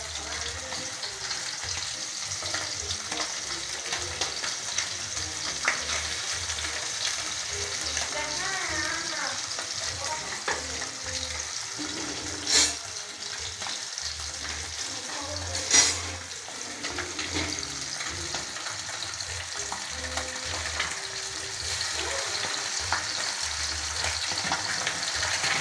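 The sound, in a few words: pabda fish frying in a pan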